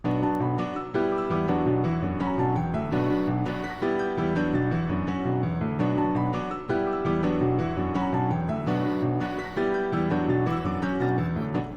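An FL Studio beat plays with layered parts, including an Omnisphere church organ preset, a loud, steady loop of sustained chords and repeating accents that cycles about every three seconds without pause.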